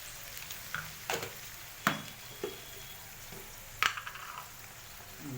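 Turmeric is added to a pan of frying paneer matar bhaji, a paneer and pea dish. A faint, quiet sizzle is broken by a handful of sharp spoon taps and scrapes at irregular intervals.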